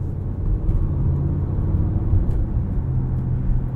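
A 2022 Audi SQ7 in dynamic mode heading onto an entrance ramp fills the cabin with a steady, loud low engine rumble and road drone that holds even throughout, with no talking.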